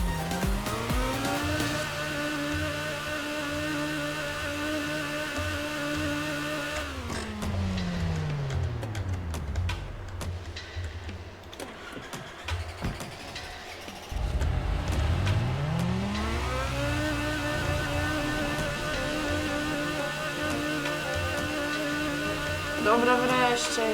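Car accelerating in Minecraft, a weak in-game vehicle: a steady synthetic engine tone rises in pitch, drops away midway, then climbs again, loud and continuous throughout with no talk.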